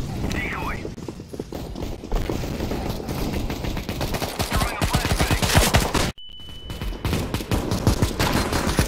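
Decoy grenade in CS:GO firing fake gunfire: rapid, dense bursts of shots crackling continuously at moderate distance, briefly cut by a silent gap before resuming.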